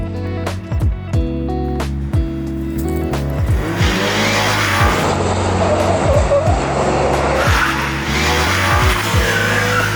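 A Subaru BRZ / Toyota GR86 sports car engine revs up and down in rising and falling sweeps while being maneuvered to park, with a brief tire squeal, close and loud.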